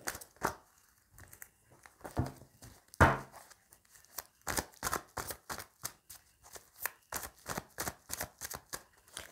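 Amethyst stones mixed by hand, a run of irregular clattering, rustling bursts that settle into a quick rhythmic shuffle of hard pieces knocking together, close and fairly quiet, with no speech.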